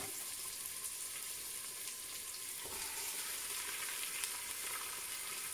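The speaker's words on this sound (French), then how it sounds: "on va ajouter nos morceaux afin de les faire revenir" Pieces of meat browning in a Cookeo pot for a tagine with olives and preserved lemon give a soft, even sizzle, quiet and steady throughout with no talking.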